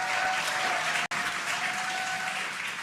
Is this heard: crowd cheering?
yes